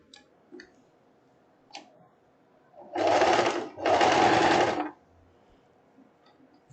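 A sewing machine stitches a strip of printed fabric for a short dress in two close bursts, with a short pause between them and faint clicks before and after.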